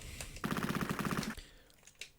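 Machine gun fire in the Sega Megadrive video game Cannon Fodder: a rapid, evenly spaced burst of synthesized shots lasting about a second, loud and alone, followed by a couple of isolated pops.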